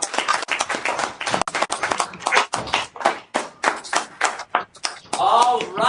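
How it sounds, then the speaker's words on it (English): Clapping from a group of students joining a mental health video conference, uneven sharp bursts of hands with a voice speaking near the end. "One last round of applause."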